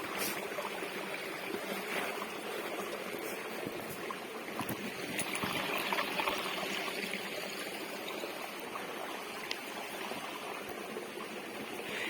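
A small stream flows through a jungle with a soft, steady rush and gentle trickling, fairly quiet and continuous, with no voices.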